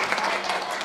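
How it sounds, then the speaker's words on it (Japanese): Audience clapping together at a hospitality seminar, a dense, steady wash of applause sustained through the brief moment with no break. "素晴らしい、拍手です、皆さん。"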